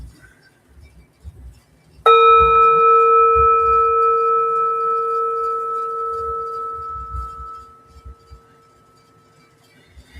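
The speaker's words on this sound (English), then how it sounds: "then I'll invite the bell to signal the end of our sit." A meditation bell is struck once to end a sitting session, giving a clear ringing tone that decays slowly over about six seconds in a quiet room with faint low rustling.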